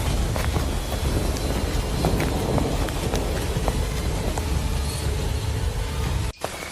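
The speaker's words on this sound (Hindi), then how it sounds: "बारिश अब और भी भयानक हो गई।" Heavy rain pours steadily in a stormy forest at night, a dense, loud, continuous wash of noise with low rumbling beneath, cutting off abruptly near the end.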